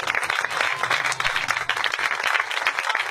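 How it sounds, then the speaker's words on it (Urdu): A church congregation claps loudly and steadily throughout, a dense wash of applause filling the space. "زوردار تالیاں بھئی."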